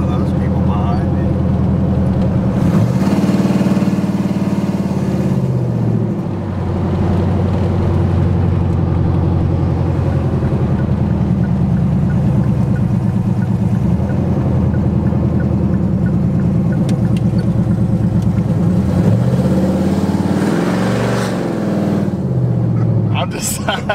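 A cammed Chevrolet Silverado truck engine with a torque converter, loud and close, droning steadily with a few rising revs, and a voice talking over it.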